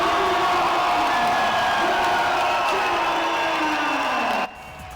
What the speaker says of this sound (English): the hometown crowd was behind her.